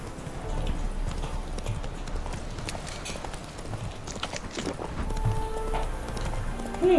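Hooves pound in a quick gallop as Roach the horse runs in The Witcher 3: Wild Hunt, a dense, continuous clatter with a brief neigh near the close.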